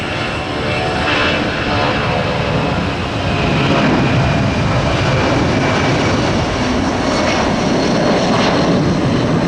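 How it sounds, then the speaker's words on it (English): A 30-year-old Boeing 757 airliner takes off at a busy airport, its engines delivering a loud, steady broadband roar that holds strong and swells slightly throughout, with no talk over it. "Great takeoff, by the way, there is 757."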